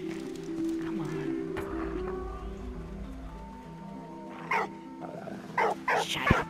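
A dog barks in the World War I video game Valiant Hearts, a few sharp barks near the end over game music, with a person talking alongside.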